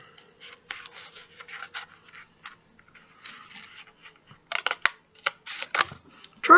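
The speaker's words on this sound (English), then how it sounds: "get a pair of scissors and cut that out" Scissors cutting out a cardboard shape, for example one taken from a shoebox: repeated close snips and scraping rubs come in uneven bursts, with quiet gaps between them.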